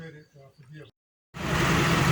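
A John Deere tractor engine runs steadily and loudly after a brief silence, with a broad, continuous drone at a garden equipment demonstration; a voice speaks over the opening moments before the engine comes in.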